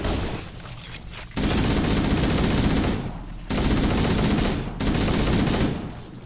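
Rapid automatic gunfire from Halo: Combat Evolved on Legendary difficulty in the level 343 Guilty Spark, fired in three long, loud, close bursts with short gaps between them.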